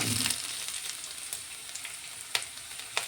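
Mustard seeds, garlic and ginger frying in a pan for a mango pickle give off a steady, moderately quiet sizzle with fine crackles, plus a few sharper pops late on.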